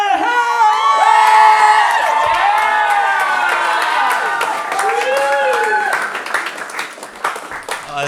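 An open mic crowd welcomes a comedian with loud cheering, whoops and applause. The noise is dense at first and thins into scattered claps and shouts.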